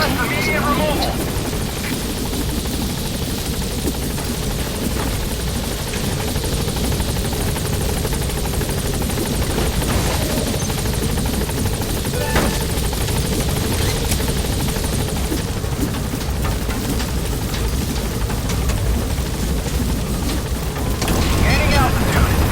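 Helicopter in the Metal Gear Solid V game gives a continuous loud rotor and engine roar as it lifts off and climbs, swelling slightly near the end.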